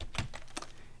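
Typing on a computer keyboard while entering a terminal command on a Raspberry Pi, two or three soft close keystrokes in about a second.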